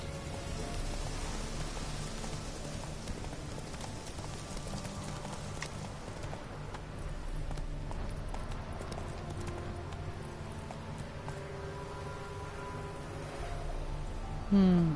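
Horse hooves clip-clopping steadily through the whole stretch as the horse Roach gallops in the video game The Witcher 3, with a soft rain-like hiss and faint game ambience underneath and a brief louder burst at the very end.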